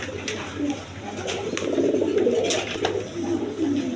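Pigeons, including a female Chinese Shaul pigeon, coo nearby in soft, rolling low calls, continuous and overlapping, with occasional light taps and rustles.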